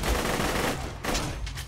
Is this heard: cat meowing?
no